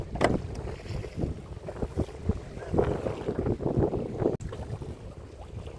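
Gusty wind blows across a river around a fishing boat with a net out, a rough, buffeting rush that stays steady throughout with no talk.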